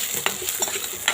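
Chopped onion and green chili sizzle in a pan, with a spoon scraping and clinking against the metal as the pieces are stirred, soft and close.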